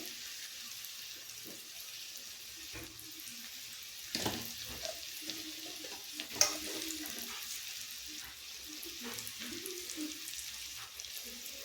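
Mutton sizzling steadily in a hot pan with turmeric, under a constant close frying hiss broken by a few louder scrapes and clanks of stirring near the middle.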